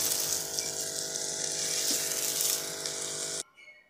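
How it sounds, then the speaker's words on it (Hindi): Chopped onions sizzling and frying as they brown in a pan: an even, bright hiss that goes on steadily, with a small clink partway through, then cuts off suddenly near the end. "प्याज को थोड़ा सा ब्राउन करेंगे हम इसको।"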